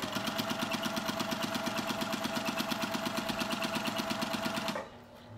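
Sewing machine stitching baby quilt blocks together, a steady fast mechanical whir with rhythmic needle pulses, running continuously up close before stopping abruptly near the end.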